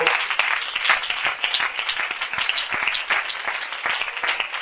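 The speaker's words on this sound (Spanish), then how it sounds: "A ver qué aplauso le rindes, por favor." A church congregation claps vigorously in praise, a close and busy mix of many sharp, uneven claps that carries steadily throughout.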